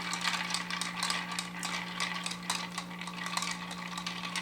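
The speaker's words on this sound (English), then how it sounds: "I'm kind of shoveling the ice in with my hands" Ice is scooped by hand into a mixing glass for a Negroni, giving a quiet, continuous jumble of clinking and rattling cubes over a low steady hum.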